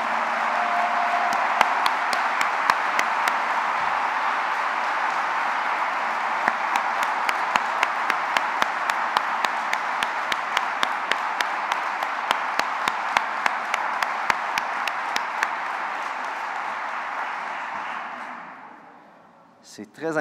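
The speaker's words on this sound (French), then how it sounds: "je vous invite à l'applaudir chaleureusement" Warm, sustained applause from a large school-assembly crowd, dense and steady with a few sharp individual claps standing out, fading away at the very end.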